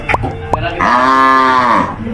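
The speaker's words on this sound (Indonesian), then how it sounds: "Aku kasih makan sapinya dulu." Cows at a KidZania farm exhibit: a loud, drawn-out moo rings out close by after a couple of short thumps, with faint background chatter.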